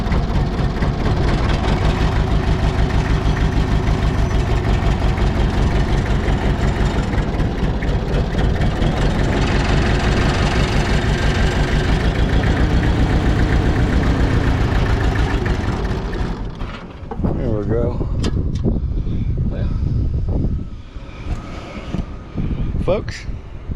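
A Mitsubishi BD2F diesel dozer revived after years of sitting, its engine running loud and close with a steady heavy idle rumble, then cutting off near the end, followed by clanks and someone talking.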